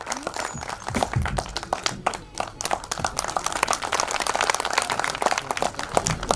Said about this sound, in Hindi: एक बार जोरदार तालियां आजाद जी के लिए